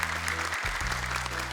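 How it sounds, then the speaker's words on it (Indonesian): A studio audience on an Indonesian Quran-memorization show applauds for the jury, steady dense clapping over a low musical hum throughout. "Tepuk tangan untuk Dewan Juri"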